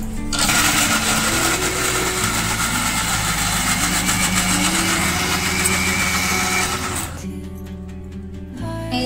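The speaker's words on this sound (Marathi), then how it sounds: "चला, मिक्सरला आता मी लावून घेते." A kitchen mixer grinder blends potatoes, garlic, tomato and ginger in a loud, steady motor whir that runs for about seven seconds, then cuts off, leaving a quieter tail.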